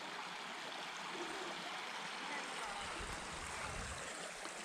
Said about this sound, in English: The river there is about knee deep.